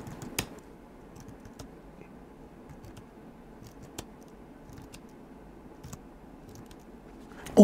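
Light, sparse keystrokes on a computer keyboard while a Trezor Bitcoin wallet recovery seed is entered, with single clicks spaced a second or so apart over a quiet background and a louder clatter at the very end.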